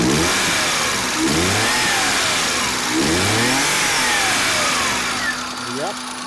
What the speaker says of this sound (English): let's rev it up from here so you can listen to the sound from here